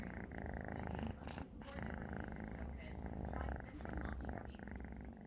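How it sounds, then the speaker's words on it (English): A kitten purrs close and steadily in a continuous rumbling vibration with slight breathing swells throughout. "you hear her purr?"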